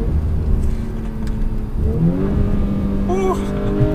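A 2019 Audi RS5 Sportback accelerating under throttle, a steady engine and exhaust drone rising with a quick upshift, heard from inside the cabin amid road noise.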